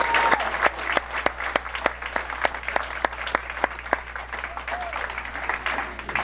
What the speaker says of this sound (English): Let's recognize her and give her a round of applause.